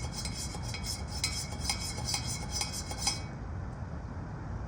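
A multi-tool's spoon stirring coffee in a cup gives a steady run of light, rhythmic metallic clinks against the cup for about three seconds, then stops, leaving faint room noise.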